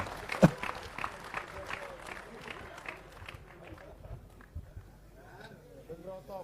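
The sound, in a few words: audience applause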